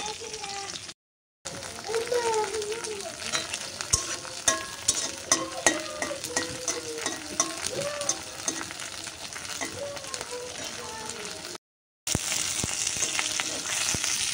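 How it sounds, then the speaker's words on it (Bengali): Garlic and onion frying together in hot oil for a hilsa tail mash, a steady crackling sizzle with stirring scrapes, broken by two short gaps of silence. "এই রসুন আর পেঁয়াজগুলো একসাথেই ভেজে নিব।"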